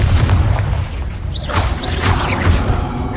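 In the video game Hogwarts Legacy, a Confringo spell explodes with a loud, deep boom and rumbling blast, followed by crackling debris and whooshing magical effects in quick succession.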